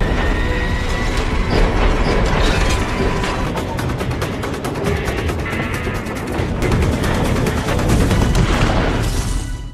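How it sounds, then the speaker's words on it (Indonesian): A heavily loaded runaway freight train with no driver rumbles loudly past, with rapid metallic clacking and banging of wheels over rail joints, continuous and close. "kereta bermuatan banyak itu pun meluncur cepat tanpa masinis"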